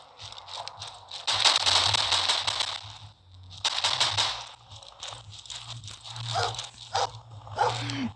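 A dog barks in several loud, close bursts with pauses between, mixed with crackly game-like effects and a low background rumble, in the Stalingrad stage of the video game World War Polygon.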